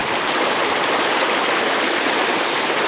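A fresh-water stream flowing near a Scottish bothy, a loud, close, continuous rushing hiss with no voices.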